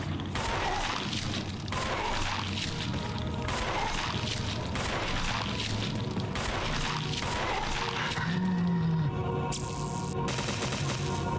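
Gunfire in a horror video game, a rapid run of repeated shots over a dense rumbling backdrop of game sound, followed by a sudden loud burst near the end.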